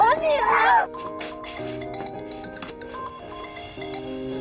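A phone ringtone plays a repeating electronic melody at moderate volume, following a child's brief cry at the start, with the tune continuing steadily on its own.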